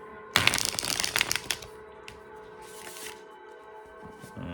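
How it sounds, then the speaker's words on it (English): A deck of tarot cards being shuffled close by, a dense rapid riffle of flicking card edges for about a second, then softer scattered slides and taps as the cards settle. "I'm gonna shuffle this deck real quick."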